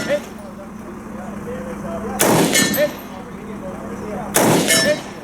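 Two loud, sharp Stgw.57 rifle shots ring out about two seconds apart at an outdoor shooting stage, each with a short echoing decay, and a steady low hum persists between them.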